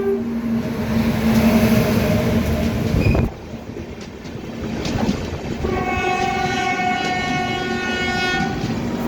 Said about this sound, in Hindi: और अब ये देखो यहाँ पे क्रॉसिंग हो रही है